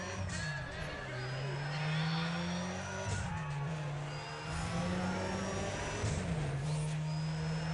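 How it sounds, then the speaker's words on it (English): Race car engines in Need for Speed ProStreet rev and rise in pitch through repeated gear shifts, several cars roaring together at a steady, loud level with whining tones layered over the drone. "Will you listen to those engines?"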